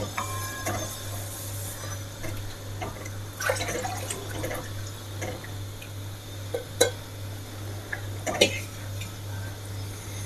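A coconut milk mixture is stirred in a pot for rice shavige, with soft liquid sloshing and occasional clinks of a utensil against the pot over a steady low hum, close and fairly quiet.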